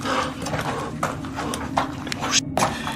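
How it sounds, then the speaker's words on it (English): Heavy footsteps thud on stairs in a house, a series of irregular knocking steps under low background rumble, with a voice speaking over them. "those were footsteps"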